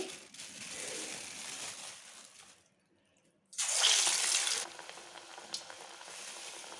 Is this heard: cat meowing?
no